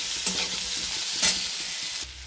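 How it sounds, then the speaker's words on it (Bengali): Potato pieces frying in oil with black cumin and green chillies, a loud close sizzle broken by two sharp scraping stirs of a spatula in the pan. "এবার আলুগুলো দিয়ে দিলাম। এখানে ভেজে নিই আলুটা।"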